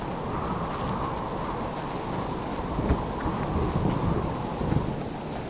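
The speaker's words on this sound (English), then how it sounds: "it sounds like the storm is so loud" A heavy thunderstorm in the survival game Subsistence, with steady loud rain pouring down and low rumbles of thunder rolling underneath, alone without voices.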